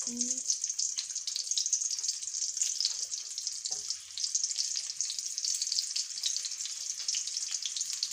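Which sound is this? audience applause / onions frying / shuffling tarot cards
onions frying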